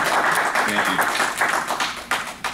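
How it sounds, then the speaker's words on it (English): Applause from attendees at a village board of directors meeting, a sustained dense patter of clapping hands from a small room crowd, steady for a couple of seconds before thinning out with a few last louder claps. "I want to give them a big round of applause"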